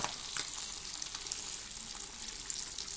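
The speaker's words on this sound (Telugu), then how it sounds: "ఈ విధంగా నూనెలో ఫ్రై చేసుకుంటున్నాము." Fish frying in oil, a steady, dense hiss of sizzling with small crackles throughout, close and moderately loud, with no voices.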